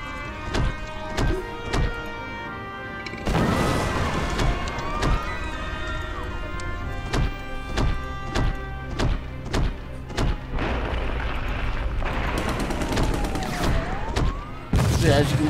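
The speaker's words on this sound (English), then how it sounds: "Okay, so now they're shooting at me." Enemies open fire on the player in the Kaiju-A-GoGo video game, producing dense, repeated bursts of gunfire and thudding booms that continue steadily throughout, loud and close against a busy game soundtrack.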